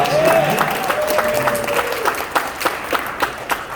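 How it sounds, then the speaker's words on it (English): Fanfest audience at Globe Life Field applauding for a Texas Rangers player's anniversary, a steady crowd clatter that thins into scattered individual claps toward the end, with a voice talking over it. "Round of applause."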